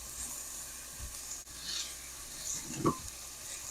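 Cuban sofrito of onions, peppers and garlic sizzles steadily in a pan, a continuous close frying hiss broken by a few stirring scrapes and one brief clink.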